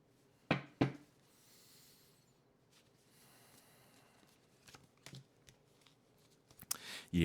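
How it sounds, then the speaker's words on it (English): Tarot cards being gathered and shuffled, with a couple of sharp slaps early on, soft sliding rustles in between, and a burst of riffling and handling at the end, close and alone. "I'm going to gather up the cards again, and then I'll draw another subset"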